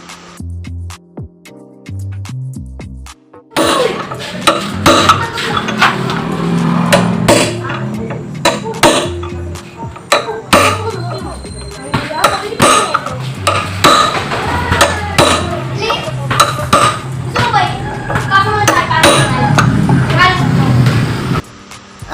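Repeated hammer blows drive a new ball race bearing into the steering head of a Yamaha Mio Sporty scooter, struck through the old race laid on top; the sharp, irregular metallic knocks ring out close and loud, with someone talking between and over them.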